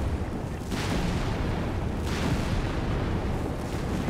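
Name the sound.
StuG assault guns bombarding, from video game Company of Heroes 3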